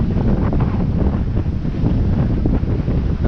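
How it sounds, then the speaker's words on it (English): Steady, loud wind buffets the microphone on a beach at Boracay's White Beach, a continuous low roar with surf mixed underneath and no talking. "The wind is cool."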